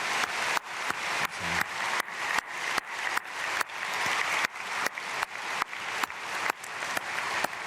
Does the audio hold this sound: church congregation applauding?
yes